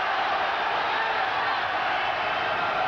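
A boxing arena crowd roars and exhorts Lloyd Honeyghan in round nine of his fight against Maurice Blocker, a dense, unbroken wall of cheering that holds at a steady loud level for the whole stretch.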